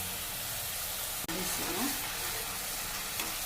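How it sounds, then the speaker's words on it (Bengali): Ground spices such as chili powder, garam masala, cumin and coriander powder frying in bubbling oil, giving a steady dense sizzle and hiss with faint scraping from stirring throughout. "মশলাটা পুরা মজানি হয়ে গেছে, তেলটা ফুটে ফুটে উঠেছে।"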